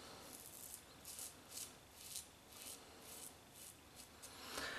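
A Hyperion stainless steel double-edge razor with a once-used Feather blade, over Leodis shaving cream, makes a steady series of about nine close, quiet, crisp scraping strokes in an even rhythm.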